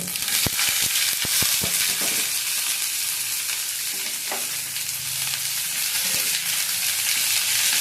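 Capsicum frying in oil, a loud, continuous sizzle close up, with a few sharp clicks and scrapes from stirring in the pan.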